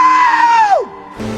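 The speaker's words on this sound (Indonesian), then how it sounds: "sudah terdengar suara teriakannya" A man screams in a film scene after jumping into the sea, a single loud, sustained yell that holds a high pitch then drops sharply and fades, followed by a brief lower sound.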